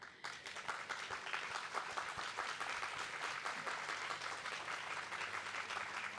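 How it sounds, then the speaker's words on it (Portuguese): An audience at a talk at a book fair applauds a woman celebrating her 75th birthday, with quiet, steady clapping from a small crowd that lasts several seconds. "palmas para ela"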